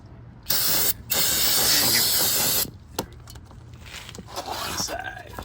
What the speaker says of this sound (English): You have to put the brake cleaner on it on both sides.